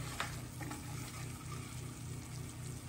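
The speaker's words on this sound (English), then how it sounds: "let me stir that" A spoon stirs a pepper-seasoned sauce cooking in a pan for au gratin potatoes, giving soft rhythmic scraping over a steady sizzle and a low hum, close and moderate in volume, with no talking.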